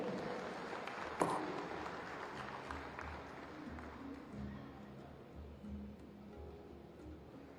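Faint audience applause at a formal government function opening an ammunition manufacturing complex, a soft, diffuse wash of clapping that gradually thins out, with one sharp bump near the start.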